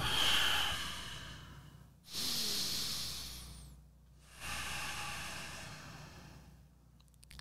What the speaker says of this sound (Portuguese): quando eu faço um tipo de respiração